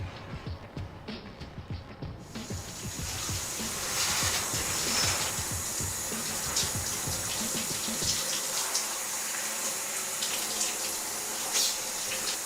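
Water runs from a shower in a steady, hissing stream, its spray broad and constant after a short burst of splashing at the start, with no voices.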